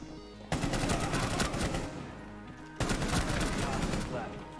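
Rapid automatic gunfire from a video game comes in two sustained loud bursts with a brief gap between them, dense and close over a game soundtrack.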